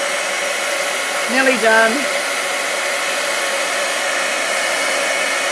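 A heat tool blows a steady, loud airy roar while warming embossing paste, running continuously throughout, with a brief voice speaking over it partway through.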